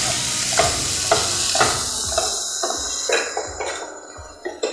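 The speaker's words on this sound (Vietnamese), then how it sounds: "Ghẹ nếu mình xào rồi ha, hâm nóng rồi ha" Crab sizzles as it is stir-fried and reheated in a hot pan, with steady frying hiss and a regular series of scraping, tapping stirs against the pan surface about every half second.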